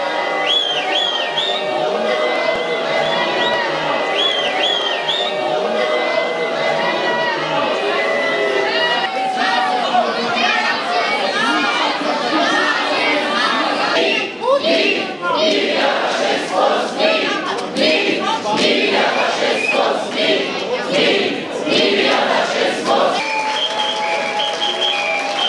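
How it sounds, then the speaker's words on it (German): A crowd of demonstrators protesting an AfD citizens' dialogue in Radolfzell boos and shouts at people entering the event at the Milchwerk, a dense, continuous roar of jeers and yells with whistles and chatter throughout, loud and close. "Jetzt laufen da Leute rein für diese Veranstaltung, die werden ausgebuht nach Strich und Faden"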